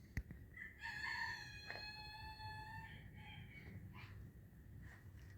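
A rooster crows one long, drawn-out call at moderate distance, heard in an outdoor residential neighbourhood in Johnson Town, Iruma, Saitama, Japan, over a low steady background hum and a sharp click at the start.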